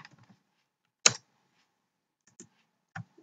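A few sparse, sharp keystrokes on a computer keyboard in a quiet room, isolated clicks separated by silence as a short word is typed, close and clear, with no talking.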